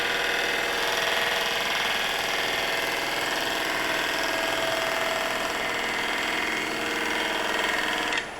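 Woodturning gouge cutting wood on a lathe while shaping a mushroom: a continuous dense whir and hiss of the spinning workpiece under the cut, steady and close throughout.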